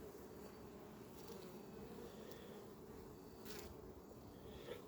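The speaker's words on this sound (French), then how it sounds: "Il y a encore pas mal d'abeilles qui font la danse." Honeybees swarm and buzz around an open hive colony during late-summer preparation for wintering, a steady dense drone close to the microphone with no talk.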